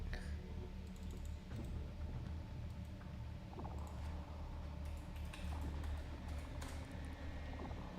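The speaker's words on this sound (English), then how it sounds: "Let's try typing this in." Steady keyboard typing on a computer runs throughout at a low level, soft clicks scattered over a constant background hum.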